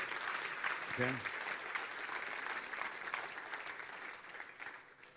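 A church congregation claps in sustained applause, a dense wash of hand claps with a brief voice near the start, gradually tapering off.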